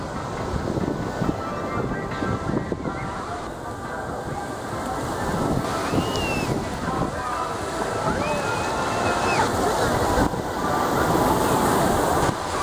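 Waves wash and slosh onto Widara Payu Beach in a steady, loud roar that swells slightly toward the end.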